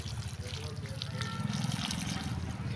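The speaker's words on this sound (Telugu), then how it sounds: "ఇప్పుడు ఈ మడుల్లో నీళ్ళు పోసుకోవాలి." Water is poured into freshly seeded garden beds, a soft continuous trickle and splash heard close by under a person's talking.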